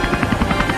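A helicopter flies overhead. Its rotor chops in a rapid, even, loud pulse with no other sound.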